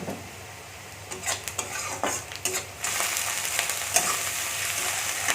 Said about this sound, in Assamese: কেপচিকাম আৰু গাজৰ দি দিলোঁ